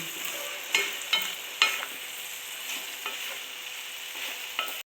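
A spoon stirs a mixed carrot and bean curry with ground coriander and cumin in a pan. A few distinct knocks and scrapes sound over a soft, steady sizzle, close by and with no voices.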